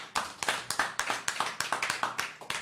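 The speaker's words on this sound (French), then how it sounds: "On applaudit, mesdames et messieurs" A few people clapping at a French television stage event, distinct individual hand claps in a quick, slightly uneven rhythm, close and sparse rather than a full crowd roar.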